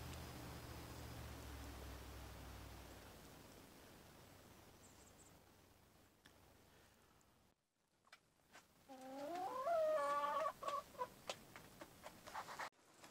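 Backyard hens cluck and chatter close by after a snowstorm, a run of short, varied calls rising over a quiet, hissing outdoor background that fades and drops out before they start.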